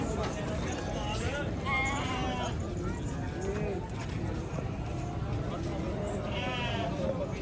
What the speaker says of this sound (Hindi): ये चेक करें अच्छा बकरा है